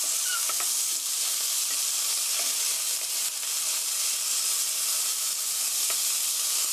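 Beef chop steak sizzles steadily and loudly in a hot pan, a dense continuous frying hiss broken by a few soft scraping clicks as the meat is nudged gently, with no talking.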